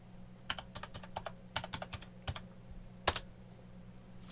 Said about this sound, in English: now I've got to put in my password.